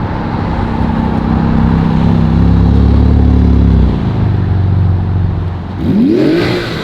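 A Porsche GT2 RS supercar arrives with a loud nearby engine roar that swells in a sustained rev, eases off, then rises in a second quick rev, heard alone.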